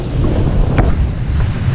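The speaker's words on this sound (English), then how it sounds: "so the wind's picked up here, it's getting a bit windy now" Strong wind buffets the microphone on a beach by the sea, a loud, steady rushing roar with occasional gusty bursts and no voices.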